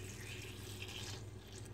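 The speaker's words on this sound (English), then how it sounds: "I'm going to pour my lye solution in" Lye solution made with aloe vera juice, Tussah silk, sea salt and sugar pours into a soap mixture of hard butters, a faint steady trickling stream with no voices.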